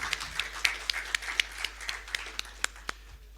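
Sparse applause from a small conference audience, about a dozen separate sharp claps spread unevenly over a few seconds, fairly quiet and thinning out toward the end.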